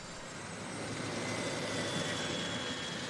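Steady broadband engine roar of a crop-spraying plane fumigating coca fields in Colombia, a continuous drone with no talk, holding level and slightly swelling through the short stretch.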